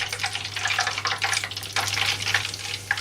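Shrimp frying in hot oil until crispy, a steady close bubbling sizzle with bright crackle, no voices, and a low electrical hum running steadily underneath.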